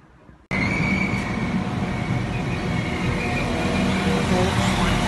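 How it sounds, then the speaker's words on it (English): A train pulls into a station platform, its loud, steady rumble starting suddenly and carrying on with faint wheel squeal and a high whine throughout. "my train is here."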